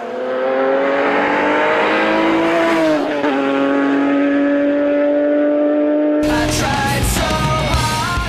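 Peugeot 407 Silhouette concept race car driving on a lightly frosted track, its engine loud and close with a steady high drone that climbs, drops on a gear change, then breaks into a harsher roar near the end.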